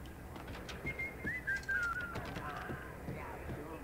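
Someone whistles a short, wavering melodic phrase in the video game Max Payne, over a low background hum and scattered clicks, moderately faint and slightly distant.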